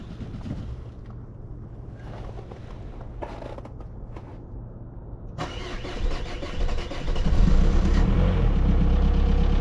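An Audi cranks and its engine fires up, then settles into a loud, rumbling idle as it warms up in cold weather.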